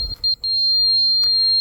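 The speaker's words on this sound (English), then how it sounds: "And you'll notice if it is low, it beeps fast. If it's high, it'll beep slower." Laser transit level emitting a high steady beep tone, first pulsing in quick short beeps, then held as a continuous loud tone, close to the device with a little handling noise.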